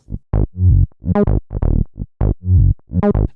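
A punchy synth bass line plays a short, rhythmic riff of plucked, buzzy notes, loud and close, with no other instruments.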